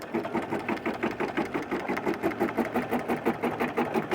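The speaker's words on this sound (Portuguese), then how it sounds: "Aqui a máquina vai prender." Sewing machine tacking ribbon onto a dish towel hanger, a loud, close, rapid rhythmic chugging that pulses steadily with no pause and no talk.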